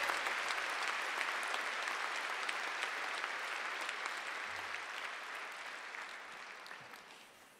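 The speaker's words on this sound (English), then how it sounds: "Please join me in a round of applause to the graduates." Graduation ceremony audience applauding new postgraduate medicine and science graduates, a steady wash of many hands clapping in a large hall that slowly tapers off.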